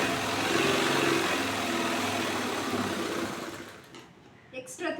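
An electric sewing machine runs steadily while stitching a blouse, a close mechanical whir that fades out near the end, followed by a few brief clicks and handling noises.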